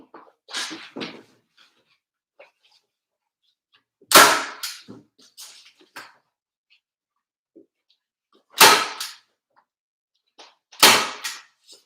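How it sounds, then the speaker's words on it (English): A staple gun fires several separate sharp snaps, spaced seconds apart, while fastening material on a Christmas village display set-up, with quiet pauses between shots. "Staple gun."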